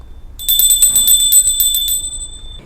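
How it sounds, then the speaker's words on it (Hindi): A small puja bell rung by hand during a Hindu Devuthani Ekadashi worship, a rapid run of bright metallic strikes lasting about a second and a half, then ringing out in a fading tone. "इसके बाद हम घंटी बजाएंगे।"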